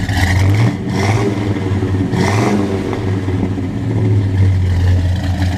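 A 1966 Pontiac GTO with a slightly cammy engine and aluminum radiator idles with a lumpy, loping rumble, blipped up in a few short revs before settling back, close and loud.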